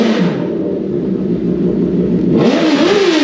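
An E-Zi Mini electric motorcycle rides along, with a steady loud whirring hum and road rumble close up and a rising whine as it speeds up near the end.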